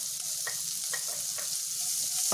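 Onion added to a pan of garlic and ginger already fried over low flame, sizzling steadily and close by with a few brief stirring clicks, no talking.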